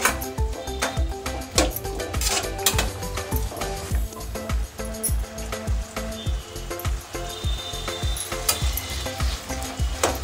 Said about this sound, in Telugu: ఇవి బ్రౌన్ కలర్ వచ్చి క్రిస్పీగా వచ్చే వరకు మనం ఫ్రై చేసుకోవాలి